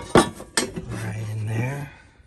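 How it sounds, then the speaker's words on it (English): A metal battery tray set into its mount on an off-road vehicle, two sharp clanks of metal followed by a short grinding scrape, with someone talking briefly. "We're going to place the battery tray"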